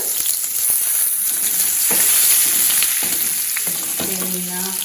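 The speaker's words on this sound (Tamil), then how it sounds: "ஸோ சோம்பு போட்டுட்டு அது லைட்டா கோல்டன் ஆகணும், ரொம்ப இது ஃப்ரை ஆக வேண்டாம்." Fennel seeds and garlic frying in hot oil for dal, a steady loud sizzle and crackle throughout with occasional stirring scrapes and a brief clink near the end.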